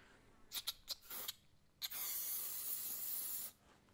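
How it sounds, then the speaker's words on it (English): Can of silicone spray lubricating a rubber connector protector: several quick short bursts, then one sustained hiss lasting about a second and a half, close and fairly quiet. "we're just going to spray some silicone spray in there"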